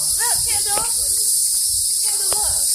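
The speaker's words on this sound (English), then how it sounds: "Listen to these bugs out here, y'all." Insects chirp outdoors at Mitchelville Freedom Park on Hilton Head, South Carolina: a dense, loud, continuous high trill fills the air, with a few bird calls and faint voices in the background.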